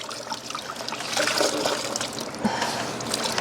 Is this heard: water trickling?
yes